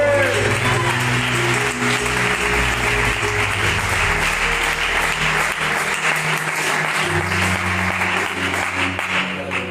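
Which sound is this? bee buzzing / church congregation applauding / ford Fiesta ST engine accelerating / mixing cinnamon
church congregation applauding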